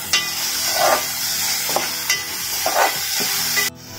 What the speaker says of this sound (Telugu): ఉల్లిపాయ అంతా బాగా వేగే వరకు ఫ్రై చేసుకోవాలి.